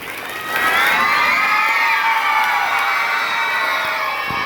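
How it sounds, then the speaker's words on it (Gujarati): Crowd of children and grandparents at a school event cheering and shouting loudly, a sustained roar of many voices that swells in after a brief quiet start and holds throughout. "તમને પણ જોરદાર તાળીઓ."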